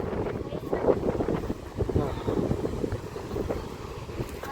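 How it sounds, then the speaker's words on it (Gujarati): Wind gusting at the seashore, a continuous rough buffeting roar that pushes hard against the microphone, close and steady, with faint voices underneath. "મસ્ત મજાનો પવન આવે છે"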